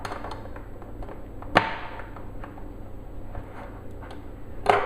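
A Leatherman tool works open a tough metal tin of canned meat, with sharp metallic clicks and scrapes, two louder snaps standing out over a low steady background.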